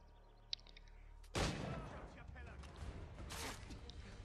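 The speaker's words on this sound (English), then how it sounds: "I'm just gonna shoot him." Gunfire in the video game Assassin's Creed 3: a sudden loud burst of shots followed by a rattling volley and a second blast, fairly close, with game noise around it.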